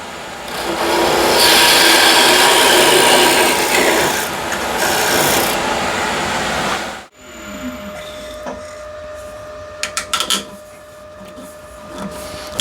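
A wooden salt or pepper shaker is parted off on a lathe. A loud, continuous rasping cut runs for several seconds, then stops abruptly, leaving quieter motor hum and a few light knocks.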